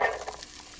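A brief hiss and crackle as chopped onion drops into a pan of hot olive oil, a loud initial sizzle settling into a steadier frying sizzle.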